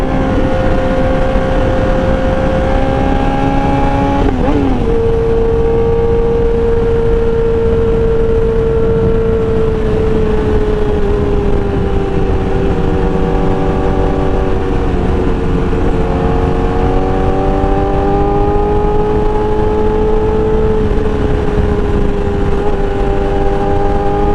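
A Honda CBR1000RR motorcycle engine running close and loud, a sustained tonal drone with a few rises and dips in pitch as it is revved, alone with no talk.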